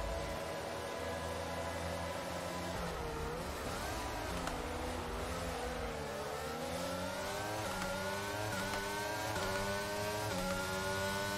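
An F1 car in the game F1 2022 on its formation lap: a high, whining engine revs and winds up repeatedly, its pitch climbing and falling over a constant loud roar, with no one speaking.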